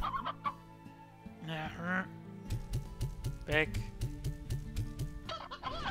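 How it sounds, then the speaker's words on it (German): Chickens and a rooster clucking in the farming video game Slime Rancher, several short bursts of clucks and squawks against steady game music, with a brief spoken word. "Ich nehme jetzt nur Hühner mit."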